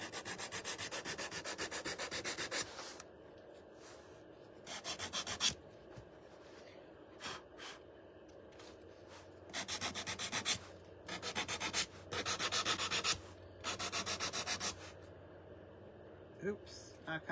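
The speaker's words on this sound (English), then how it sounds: "let me go ahead and just do a little distressing." Sandpaper rubbing the edges of a painted wooden door hanger to distress it, coming in short quiet bursts of back-and-forth scratching separated by pauses.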